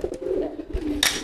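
A courting pigeon coos close by in two short, low, throaty bursts, followed by a brief rustle or flap at the end.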